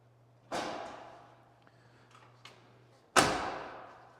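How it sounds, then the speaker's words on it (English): A Chevrolet squarebody pickup door swung shut twice, each a solid metallic thud with a short ring, the second close harder and louder, heard nearby over a faint steady hum with a small click between. "The doors close nice."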